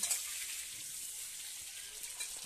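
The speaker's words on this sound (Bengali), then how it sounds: "কড়াইতে আলু ভাজা হচ্ছে। আলু লাল করে ভেজে নিচ্ছি।" Potatoes fry in oil in a wok with a soft, steady sizzle that stays faint and even throughout, with no talk over it.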